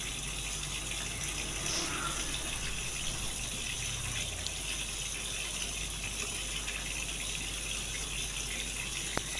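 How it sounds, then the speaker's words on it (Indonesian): Water steadily gushes into a washing machine as it refills for the rinse cycle, a continuous rushing flow that stays even from start to finish with no voices over it. "Saya isi kembali air untuk membilas ya, kembali untuk membilas."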